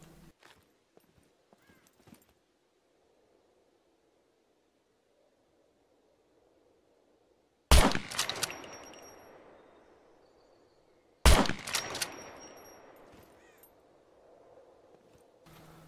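Two loud, sharp slug shotgun blasts in the survival game SCUM, several seconds apart, each with a ringing metallic tail and echoing decay, preceded by quiet handling clicks.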